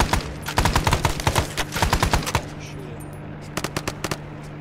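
Rapid bursts of automatic gunfire in Arma 3 during a jungle convoy fight, dense clattering volleys for a couple of seconds, then a pause before a shorter, more distant burst of shots.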